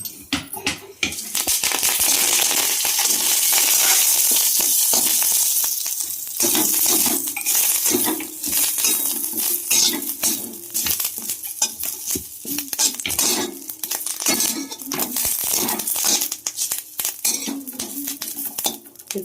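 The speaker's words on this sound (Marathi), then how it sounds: "हे आता थोडं तेल टाकून कढीपत्ता तेलात भाजून घ्यायचा." Curry leaves roasting in oil in a pan, with a loud hissing sizzle at first that settles into scraping and stirring clatter against the pan, close by and continuous.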